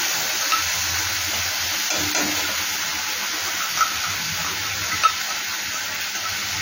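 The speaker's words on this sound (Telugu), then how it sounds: "తర్వాత వచ్చి నేను ఈ పెసరపప్పు మిశ్రమం వేసుకుంటున్నా." Moong dal mixture tipped into roasted semolina in a hot pan gives a steady, moderate sizzle and stirring hiss that runs throughout, with a few faint scrapes and no talking.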